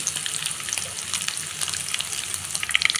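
Chopped garlic sizzling and frying in a pan for a gongura tomato curry, a steady close crackle with bright spattering pops throughout and no talking.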